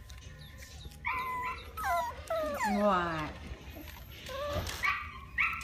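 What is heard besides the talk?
puppies whimpering and yipping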